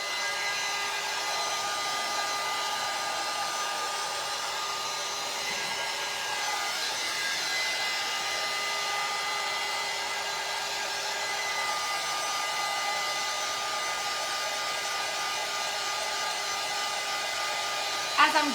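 A hair dryer runs steadily and close throughout, drying a painted craft piece on an upcycled cigar box, with a brief clatter at the very end.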